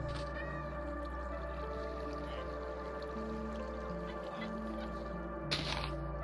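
A Minecraft cat meows a few times over steady game background music, fairly quiet and close, with a brief louder burst near the end.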